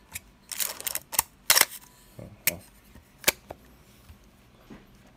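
A 1965 Canon Pellix QL mechanical film SLR fires and winds, giving a run of sharp, close mechanical clicks and snaps in an irregular rhythm, some loud and some faint.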